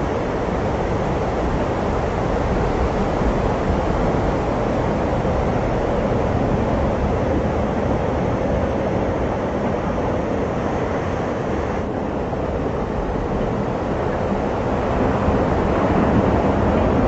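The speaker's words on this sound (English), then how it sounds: "we do have a couple of waves right here" Ocean surf rolls in at a surf break, a steady, loud wash of breaking waves with constant roar and wind noise throughout, no voices.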